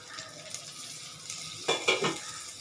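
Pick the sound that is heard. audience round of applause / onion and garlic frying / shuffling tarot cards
onion and garlic frying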